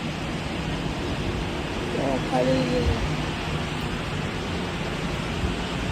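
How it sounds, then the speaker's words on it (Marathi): Heavy rain pours down steadily in a steady broadband wash, with a brief spoken word and faint voices underneath while traffic passes on a wet street. "फुल एकदम जोरात पाऊस चाललाय."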